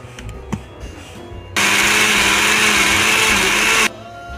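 A blender roars loudly and steadily for about two seconds, blending a frozen avocado smoothie, starting and stopping abruptly, with quieter kitchen clatter before and after.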